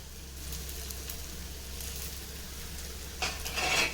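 Banana flower kola balls sizzle gently in a little oil on a hot paniyaram pan, a steady soft crackle throughout that brightens and grows louder near the end, with no talking.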